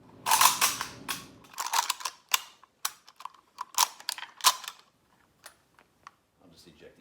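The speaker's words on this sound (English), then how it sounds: "I'll just eject these out onto the workbench" Live rounds are ejected from a Yugo SKS rifle onto a workbench in a series of sharp metallic clacks and clicks, close and irregular, bunched early and then spaced out before fading.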